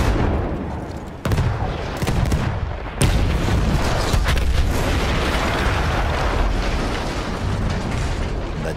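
A loud, booming explosion of an artillery gun being blown up in Battlefield 1, with sharp blasts and then a rumbling roar and mechanical clatter that carries on.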